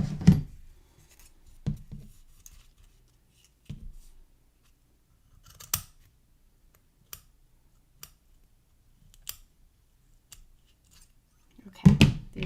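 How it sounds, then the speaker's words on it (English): Big scissors snipping ribbon at a crafting table for a patriotic ribbon star, a few sharp, scattered cutting clicks and snips, close and fairly quiet with long pauses between. "These big scissors don't work for those tiny corners."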